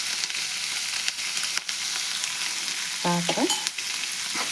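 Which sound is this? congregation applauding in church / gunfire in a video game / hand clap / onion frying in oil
onion frying in oil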